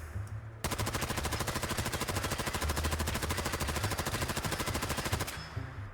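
A modded RCW firing in Fallout 4, converted to a large magazine, as a sustained rapid automatic burst of evenly spaced shots lasting several seconds, loud and close, with no voices over it.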